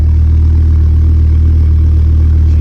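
Car engine idling steadily with a 3-inch turbo-back exhaust and lightweight flywheel, a loud, close, even low rumble with faint transmission clatter, no voices.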